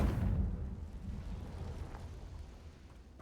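A deep, rumbling fiery blast from the Confringo spell in Hogwarts Legacy, loud at the start and then slowly fading into a low roaring tail, with no talking.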